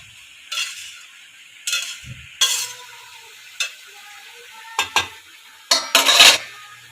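A spoon stirs salted vegetables in a pan in several separate bursts of scraping and clatter, close and fairly loud, over a faint background, with no talking.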